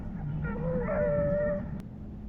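A hunting dog out on a cold bobcat trail in thick brush gives a single drawn-out bay. The call sounds faint and distant, rising and holding for about a second over outdoor background noise.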